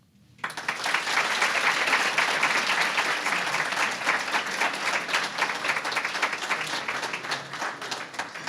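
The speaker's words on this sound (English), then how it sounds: "Let's give them another round of applause" A sudden burst of sustained applause from a large crowd at an honors luncheon, steady and full for several seconds, with many hands clapping at once.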